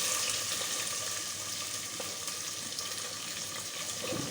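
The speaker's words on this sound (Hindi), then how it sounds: "प्याज ब्राउन हो गई है, इसमें टमाटर डाल देंगे" Tomatoes hit browned onions frying in a pan for aloo tahari, giving a steady, bright sizzle with faint stirring, close and without speech.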